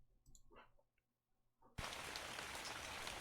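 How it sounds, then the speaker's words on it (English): After a few scattered soft clicks and near-silence, rain suddenly starts falling outdoors, switching at once into a dense, steady hiss of raindrops that holds to the end. "What had once been a clear sky soon turns into a cloudy one as raindrops are heard."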